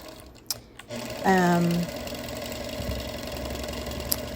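Sewing machine quilting around appliqué through layered backing, batting and top, its motor giving a steady low hum with a brief rising whine partway through, close and continuous.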